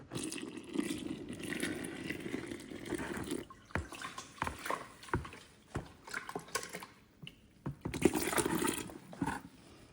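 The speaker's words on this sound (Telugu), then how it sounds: "ఇవి నేను ఈ పిండిలో పోసేసి మిక్స్ చేస్తాను." Rice-washing water is poured into flour and stirred by hand for homemade fertilizer, uneven splashing and sloshing bursts with short quiet gaps between pours.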